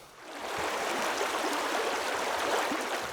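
Steady rushing flow of the Cascapédia River, a broad salmon fly-fishing river, forms a continuous close wash of water with faint gurgles and no voices.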